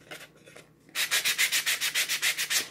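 Sandpaper rubs back and forth along the edges of a painted wooden box frame, about a dozen quick, even, close strokes in a steady rhythm after a faint scuffing start.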